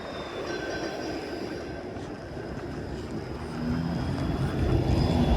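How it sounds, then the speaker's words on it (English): A Toronto 506 streetcar passes on Gerrard Street East, a low rumbling roll that swells louder toward the end over steady street background, with no talking. "Oh, finally, here's a streetcar."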